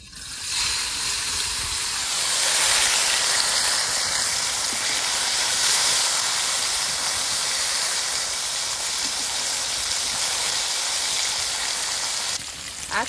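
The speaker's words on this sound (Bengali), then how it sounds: "তেল গরম হয়ে গেছে, এবার মাছ দিয়ে দেবো।" Pieces of katla fish drop into hot oil in a kadai and fry with a loud, sustained hiss and sizzle that swells after a brief start and holds steady, close up, with no talking.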